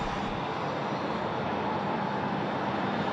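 A Hawker 850 business jet taxis quickly along the ground at Sydney Airport, producing a steady, loud broadband engine roar and rush that holds evenly throughout.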